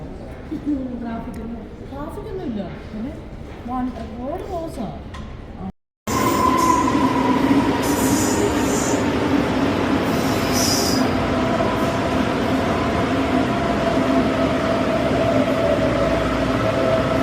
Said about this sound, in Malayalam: നമ്മൾ ഈ ട്രെയിനിൽ കയറാൻ വേണ്ടിയാണ് നിൽക്കുന്നത്.